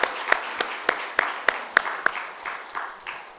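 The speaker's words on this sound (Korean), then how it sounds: "우리 박수로 서로에게 감사의 메시지를 보내도록 하겠습니다" A church congregation marking seventy years of its church claps in thanks: a sparse, steady run of about a dozen sharp individual claps spaced evenly, fairly faint with room tone between them, thinning out toward the end.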